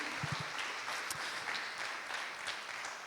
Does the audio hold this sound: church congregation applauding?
yes